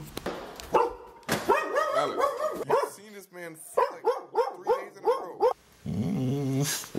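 A dog barks and whimpers in a run of short yelps and whines, some loud and close, mixed with people talking nearby.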